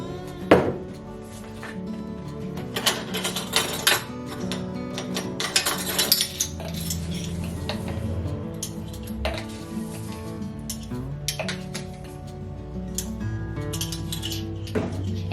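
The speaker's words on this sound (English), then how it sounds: "And give that a little stir." A spoon stirs yeast into lukewarm milk for cinnamon roll dough, giving repeated light clinks and taps against the container, close by and steady for several seconds, with no speech.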